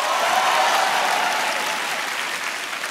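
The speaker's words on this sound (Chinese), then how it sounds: "会的话，给我一点掌声。" Audience at a small-stage stand-up comedy show bursts into loud, dense applause that swells early and then slowly fades over a few seconds.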